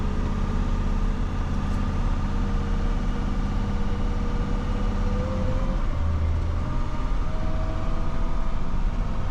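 A Komatsu 30-ton dump truck labors up a hill with its throttle floored, giving a steady, heavy diesel drone with a low rumble that stays loud and unbroken throughout.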